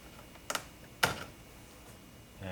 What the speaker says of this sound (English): I'm going to use a small screwdriver just to kind of coax it out a little bit.